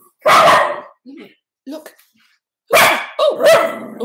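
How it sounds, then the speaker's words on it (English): Tibetan Terrier barking indoors, a few sharp, loud barks in two separate bursts with short pauses between them, and a person briefly speaking nearby. "she's a Tibetan Terrier, and Tibetan Terriers are alert dogs"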